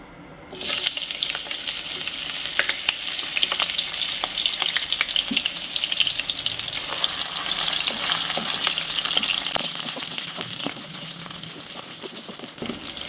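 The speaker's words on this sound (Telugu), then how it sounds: "ఫస్ట్ అయితే నేను కడిగి పెట్టుకున్న ఈ బొమ్మిడీలు ఉన్నాయి కదా, వీటిని అయితే ఫ్రై చేసుకుందాం" Washed dried bommidi fish fry in hot oil in a pan for a Telugu dried fish curry, giving a loud, dense crackling sizzle that starts abruptly and continues steadily with occasional stirring.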